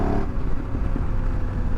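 A car engine revving at low revs in fourth gear, a steady loud rumble with rough low-frequency pulsing throughout, no voices.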